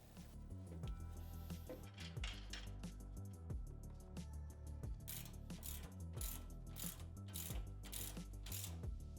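A ratchet snugs the lower radius rod nut on a Polaris UTV during a Tusk Gladiator CV axle install, giving a steady run of close, repeated clicking strokes over a constant tonal background.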